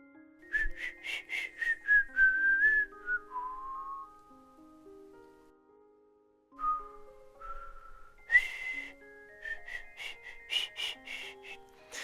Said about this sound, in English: Why can't I whistle?